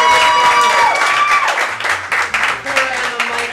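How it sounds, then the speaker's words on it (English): Audience at a live improv comedy show applauding finalists, loud sustained crowd clapping with some cheering, a voice carrying over it. "Give them a round of applause."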